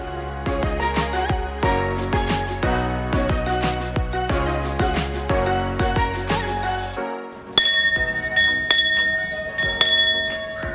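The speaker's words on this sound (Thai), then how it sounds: "แล้วเราก็ไปตีกระดิ่งตรงนู้นคนละ 3 ครั้ง นะครับ" A bell at a Ganesha temple is struck repeatedly with bright metallic rings and overlapping clangs that blend into a ringing wash, followed by a few sharper chimes near the end.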